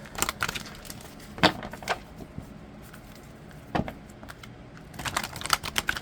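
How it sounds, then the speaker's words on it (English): Tarot cards being shuffled in bursts of crisp riffling and tapping clicks, separated by quieter pauses, close to the microphone with no voices. "I've been shuffling for a minute here."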